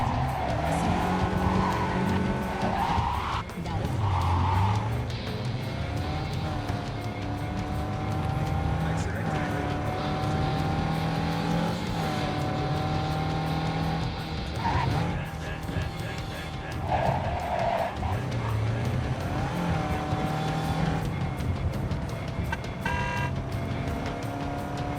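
Car engine roaring steadily in the video game Cyberpunk 2077, with tire squeals and skids as the vehicle drives, and someone talking over it throughout.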